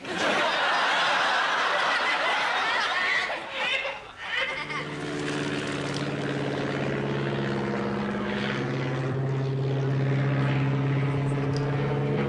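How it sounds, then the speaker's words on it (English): A propeller-driven airplane drones overhead, its engine noise steady and loud and holding a sustained pitch as it passes over an open field. "we've got to get across this field and into those woods without that plane spotting us"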